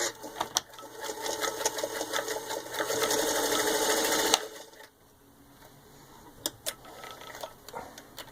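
A serviced, rewired vintage 1938 Singer 221-1 Featherweight sewing machine runs under pedal control, its rapid close whir building to full speed for several seconds, then dropping to quiet with a few isolated clicks.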